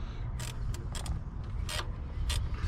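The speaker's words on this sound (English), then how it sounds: "Box end ratcheting wrench works much better on that." Box end ratcheting wrench worked on the alternator of a 2002 Toyota 5VZ-FE V6: quick bursts of close metallic ratchet clicks over a low mechanical background, repeating unevenly.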